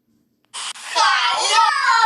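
A voice pitch-shifted and filtered in KineMaster into a deep, demonic Satan-like growl, heard alone for about a second and a half after a brief earlier burst, loud and close.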